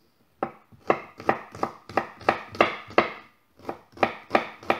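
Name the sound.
finely chopping ginger with a knife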